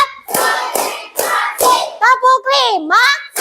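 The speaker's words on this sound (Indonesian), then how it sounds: "Tepuk 1. Tepuk 2. Tepuk 3. Tepuk 4." Children in a counting clap game strike their hands in four sharp, evenly spaced claps, and then young voices chant together in a singsong rhythm.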